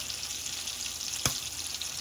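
Steaks sizzle in an iron skillet with a steady, hissing fry that carries on throughout, broken once by a short sharp clack midway.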